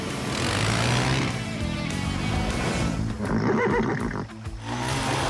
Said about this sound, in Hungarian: Szegény ló már nem sokáig bírja!